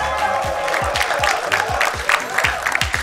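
A live studio audience at a game show claps steadily and fairly close, a dense patter of hands with a few louder individual claps.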